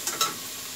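Culetis cooking in a hot pan gives off a soft, steady sizzle, with two brief bright crackles near the start before settling into an even hiss, no voices.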